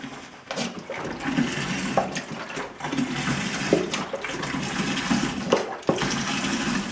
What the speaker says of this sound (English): So let's dump in the rest of the apple juice.